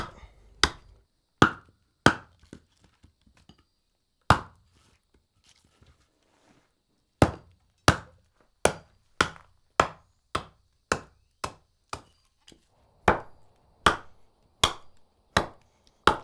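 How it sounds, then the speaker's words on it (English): Sharp, separate chopping strikes as notches are cut into maple wood while carving a serving spoon, coming in uneven bursts with short pauses between clusters, close and fairly loud with no talk. "I've got to be really careful chopping these notches because it's causing a weak spot right there."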